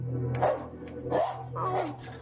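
A dog barks and yips three or four times in an uneven rhythm, fairly close and moderately loud, with a low steady hum behind it. The barks come from a live theatrical audio drama performance.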